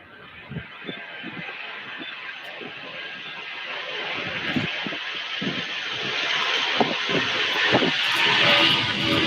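A UPS Boeing 757 airliner at Louisville airport, its jet engine roar rising gradually from a distant hiss to a steady louder rumble, mixed with wind and occasional thumps.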